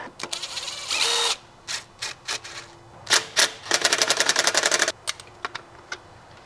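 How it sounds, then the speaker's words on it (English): A heavy-duty ratchet turns on a Subaru engine during an engine swap, giving quick bursts of sharp clicking, including one long fast run, separated by short pauses, close up. "Nice heavy-duty ratchet."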